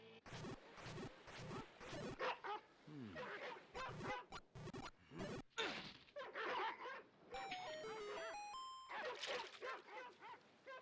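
Dogs bark, yip and whimper in rapid bursts, close and lively, with a short run of chiming tones partway through.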